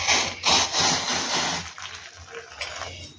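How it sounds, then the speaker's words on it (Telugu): Hot water being poured into a bowl of flour while dough is mixed by hand for murukulu or rice crackers, a splashing liquid pour up close, then quieter rustling and squelching of mixing. "వేడి నీళ్ళు కొద్ది కొద్దిగా వేసుకుంటూ పిండిని ముద్దలాగా కలుపుకోవాలి"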